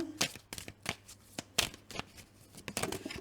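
Tarot cards being handled, shuffled and drawn, a series of crisp flicks and snaps at irregular intervals with soft rustling between them, close and quiet.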